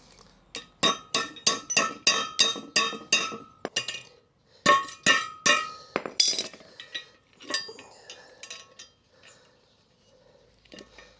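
Sharp metallic hammer strikes ring out in quick rhythmic bursts, a run of about a dozen blows, then a pause, another volley, and a few scattered taps.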